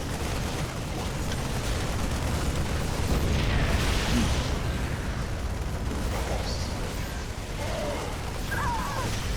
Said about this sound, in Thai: ช่วยเพื่อน ระเบิดบาเรียตรงนี้ระเบิดบังเกอร์ก่อนนะฮะ